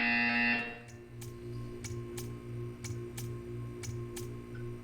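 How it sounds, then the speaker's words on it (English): A loud electronic buzzer sounds for about half a second in the video game Portal 2, followed by a steady series of evenly spaced ticking clicks over a continuous low hum, with no talking. "You will hear a buzzer."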